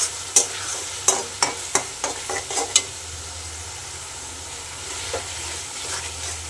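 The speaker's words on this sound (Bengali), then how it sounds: "মাংসর মশলাটা কষে নিচ্ছি।" Meat masala being stir-fried in a pan, with a series of sharp scraping spatula strokes over a steady sizzle, then a quieter stretch of continuous frying near the end.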